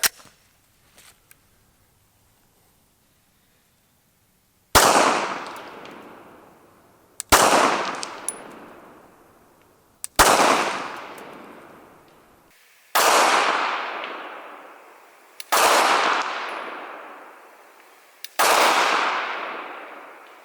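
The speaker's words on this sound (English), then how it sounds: "So start with the Glock 17" Six sharp, loud Glock 17 pistol shots firing 135-grain Hornady Critical Duty rounds, each crack ringing out with a decaying tail, spaced about two to three seconds apart after a quiet opening.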